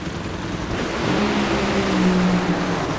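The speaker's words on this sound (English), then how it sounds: "Paul Lee is going to win the first drag race of his life in a Nitro funny car." At a drag race, a nitro funny car's engine noise is a broad roar that swells from about a second in and holds steady, with faint rising engine tones inside it.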